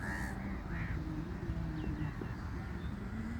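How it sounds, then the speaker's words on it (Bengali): A crow caws a couple of times early on, fairly distant, over a constant low rumble of background noise, in Saudi Arabia. "কাকগুলা দেখছেন, এই যে কাকগুলা"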